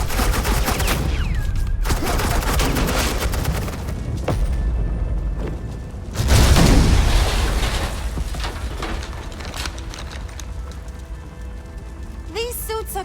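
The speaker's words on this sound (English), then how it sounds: "This is Agent Quinn, suppressing fire" Rapid suppressing gunfire in Batman: The Enemy Within, loud bursts and rattling volleys with a heavy boom midway, voices talking over parts of the mix.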